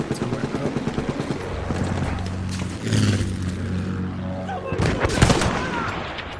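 Field artillery piece firing in Battlefield 1, loud booming blasts amid dense gunfire and battlefield clatter, with a heavy low thump near the middle and another burst toward the end.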